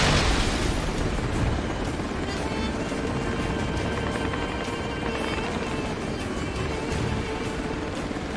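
Continuous heavy gunfire and explosions in the combat game Ace Combat Assault Horizon, a dense loud rumbling barrage with helicopter-like drone, running steadily throughout.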